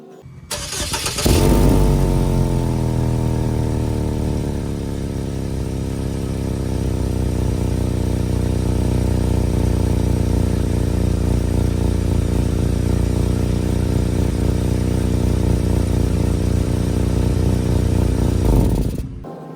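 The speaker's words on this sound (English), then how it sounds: "So this will help get rid of any annoying loud exhaust sounds that have developed suddenly on your vehicle." A car engine starts and idles with a hole in its muffler, producing a loud, raspy, rumbling exhaust drone that runs steadily for nearly twenty seconds before cutting off, close to the microphone.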